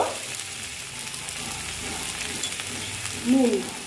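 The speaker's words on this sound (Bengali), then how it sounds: "ভেজে নেব, যাতে আদা রসুনের গন্ধটা চলে যায়।" Ginger garlic paste frying in a pan for an egg curry, a steady soft sizzle throughout with a brief louder burst of stirring near the end.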